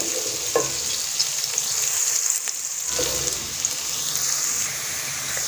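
Onions fry in a pan over a medium-low flame, browning lightly, with a soft continuous sizzle, faint crackles and a brief stir or scrape partway through, close and fairly quiet.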